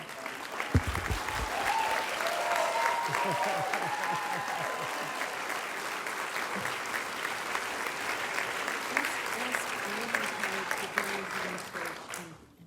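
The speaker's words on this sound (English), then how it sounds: "after you applaud me" A crowd applauds steadily for several seconds, with a few voices and cheers mixed in near the start, before the clapping fades at the end.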